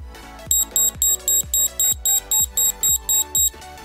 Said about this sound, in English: press the button corresponding to the tracker and it will beep.